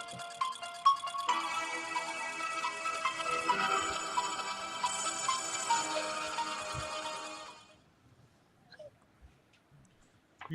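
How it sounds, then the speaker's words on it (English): A phone ringtone plays a bright, busy electronic melody for about eight seconds, then cuts off, leaving near silence with a few faint knocks. "It's my ringtone, by the way."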